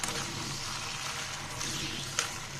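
Pieces of meat fry in hot oil over high heat, giving a steady soft sizzle with faint crackles and one small pop, and no talking.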